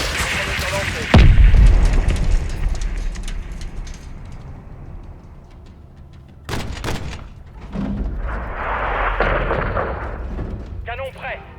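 Missile strike and artillery explosions in the video game Call of Duty MW2, a loud deep boom followed by rumbling blasts and gunfire bursts, with radio-style voices talking over the action.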